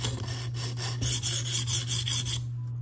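A Spyderco Police 4 blade in K390 steel scrapes across a whetstone in quick, even back-and-forth rasping strokes, close and steady, over a low constant hum, stopping just before the end.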